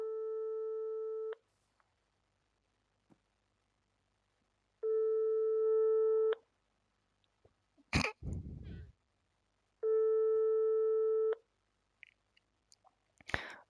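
Telephone tone during a call: three long, steady electronic tones with silent gaps, interrupted by brief clatter and rustling close to the phone.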